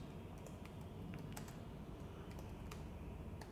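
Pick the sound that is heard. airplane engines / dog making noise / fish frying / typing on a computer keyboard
typing on a computer keyboard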